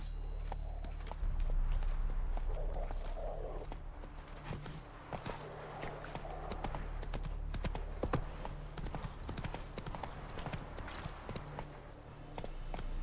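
Horse hooves clip-clopping as a rider urges the horse Roach along in the video game The Witcher 3, a steady walking rhythm of hoof beats over a low background rumble, with no talk.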